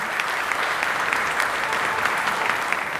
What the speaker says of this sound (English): can I get a huge round of applause